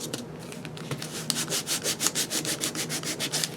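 A nail file rubbed back and forth over a stamp, a steady run of about twenty quick, even scraping strokes, close and fairly loud, with no talking.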